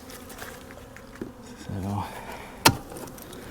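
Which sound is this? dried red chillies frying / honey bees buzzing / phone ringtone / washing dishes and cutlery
honey bees buzzing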